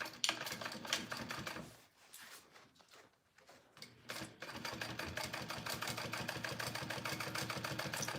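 Sewing machine stitching a zipper into a fabric wristlet, running in steady rapid bursts with a brief pause midway before resuming continuously and close.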